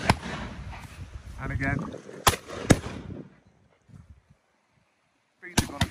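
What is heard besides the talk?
shotgun shots during game shooting lesson on Exmoor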